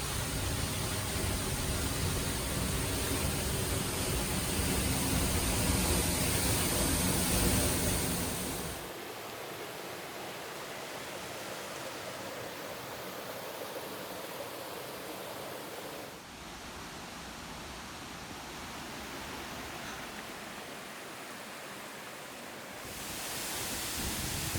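Waterfall inside a cave in a Panama cloud forest, a constant dense roar of falling water that is loudest at first, then shifts to a slightly softer steady rush, with no voices.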